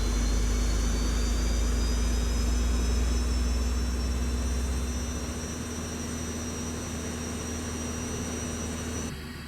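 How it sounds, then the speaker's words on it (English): Continuous SEPECAT Jaguar attack jet engine starting in a flight simulator, heard from outside: roar and high whine with a deep rumble that fades partway through, leaving a steady hiss and tone; no voices. "You hear the engine starting out on the outside."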